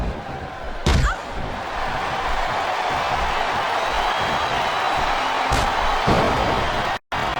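Arena crowd at a pro wrestling match roaring and chanting steadily throughout, a loud sustained wash of voices with a few sharp slam-like impacts on top and a brief dropout near the end.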